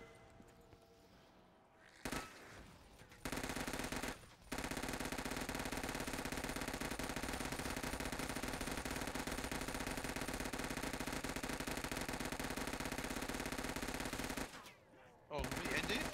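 Rapid continuous minigun fire from a Death Machine in a zombies-style shooter on an ice map, a dense sustained roar running most of the clip with brief pauses near the start and end.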